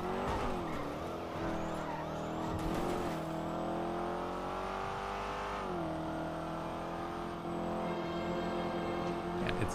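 Aziz's car driving in a video game, its engine humming steadily and rising and falling in pitch as it accelerates and eases off, with brief tire noise and no voices.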